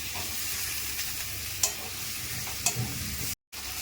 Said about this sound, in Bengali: পটল আলু ভাজাটা দিয়ে দিচ্ছি।